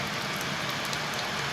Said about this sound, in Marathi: आपल्या इकडे बघा पाऊस चालू आहे सकाळपासून